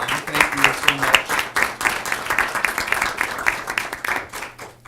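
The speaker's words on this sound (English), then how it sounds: "a round of applause for both of them" An audience at a Board of Education meeting gives a round of applause, with brisk, uneven clapping that swells and fades before trailing off near the end.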